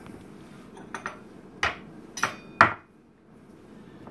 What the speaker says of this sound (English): I'm going to grab another plate